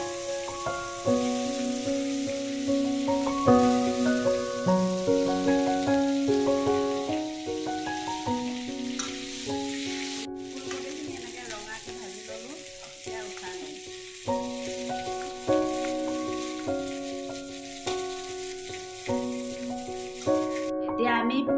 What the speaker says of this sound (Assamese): কাটি ৰখা ফুলকবিখিনি ভাজি ল'ম।